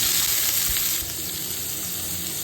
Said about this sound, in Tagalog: magigisa na tayo ng luya, sibuyas, bawang